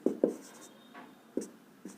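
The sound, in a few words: chalk or pen writing on a board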